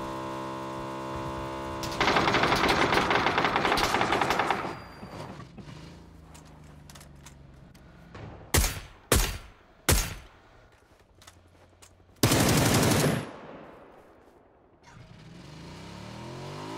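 Suppressed gunfire in a first-person shooter game: several sharp, isolated shots in the middle, set between longer stretches of loud broadband game noise, then quieter ambience.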